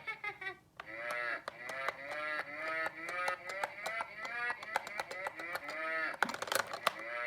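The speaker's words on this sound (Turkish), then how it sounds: "İnek." A Fisher-Price toy piano's electronic cow moo, a synthetic tonal lowing repeated over and over with short clicks and beeps in between.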